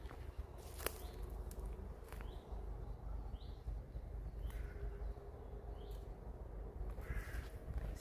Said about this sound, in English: know if you can hear the birds